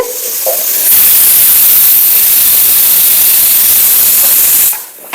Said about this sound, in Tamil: அதான் அஞ்சு விசில் வந்துருச்சு